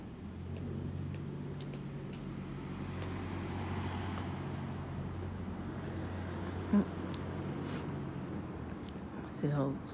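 Cars roll slowly past on a residential street at night, a continuous low engine rumble and tyre noise with a couple of brief louder bumps near the end.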